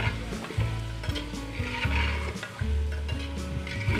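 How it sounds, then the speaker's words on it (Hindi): Large pieces of mutton frying in garlic ginger paste for nihari, a dense close sizzle with stirring and clattering pot sounds, no talk. "इसको अब हम 10 मिनट अच्छे तरह से फ्राई करेंगे अपने लहसुन अदरक के पेस्ट में।"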